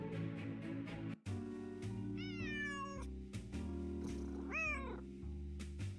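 A cat meows twice in the Nancy Drew video game, with drawn-out descending cries rising above a steady ambient music loop and brief clicks.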